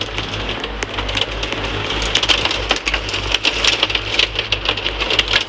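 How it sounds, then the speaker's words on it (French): Heavy rain pours in a tornado video game, a loud, dense, steady hiss of downpour with patter and occasional sharper splashes, heard alone without voices. "Il pleut beaucoup là."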